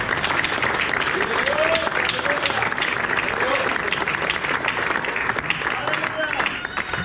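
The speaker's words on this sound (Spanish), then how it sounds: "Denle un fuerte aplauso al Señor." Sustained applause from a large church congregation, steady and loud throughout, with a few voices calling out beneath the clapping.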